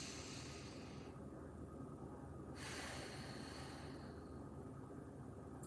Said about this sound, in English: All nasal breathing.